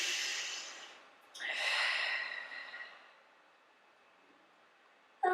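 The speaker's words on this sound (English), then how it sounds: "Just take 2 long breaths" Two slow, long breaths, drawn in close to the ear: a soft airy exhale or sigh, then a longer hiss-like breath, with quiet room tone after.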